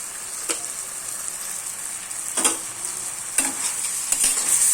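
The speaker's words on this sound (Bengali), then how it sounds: "এইভাবে একটু নাড়াচাড়া আমি করে নিচ্ছি" Elephant apple chutney with chili powder and sugar sizzles softly in a pan while a spoon stirs it, giving a few sharp scraping strokes over a steady hiss of frying.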